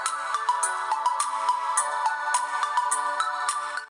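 A Garmin Venu 3S smartwatch speaker rings at maximum volume, a bright electronic ringtone of repeated chiming tones that stays steady and fairly loud with no voices over it.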